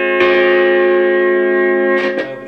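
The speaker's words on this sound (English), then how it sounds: "that was overdrive 2, this is overdrive 1." An electric guitar played through a Marshall Valvestate S80 amplifier on its overdrive 1 channel, with a loud sustained distorted chord ringing for about two seconds and then a couple of quick restruck chords at the end.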